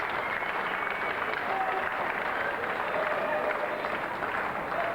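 Broadband applause and crowd noise from spectators at a South Australia vs NSW first-class cricket match, greeting a batsman's six and his fifty, a steady, continuous roar lasting throughout at even loudness.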